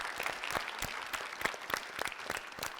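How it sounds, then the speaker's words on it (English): A room of students and guests claps for the English teachers at a school quiz competition, with steady, dense applause at moderate loudness that runs unbroken throughout. "a round of applause for the English teachers as well"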